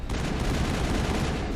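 Video game gunfire crackles in a dense, continuous burst of rapid shots, loud and close, with no clear gaps between rounds.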